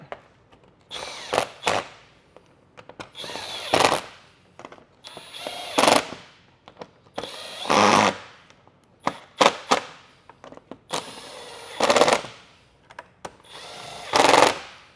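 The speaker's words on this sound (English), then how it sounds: "We'll install those and then go ahead and run our screws in." A power drill drives screws into the front bumper of a 2018–2023 Ford Mustang during a GT500-style bumper conversion, giving about seven short, loud whirring bursts separated by quiet pauses.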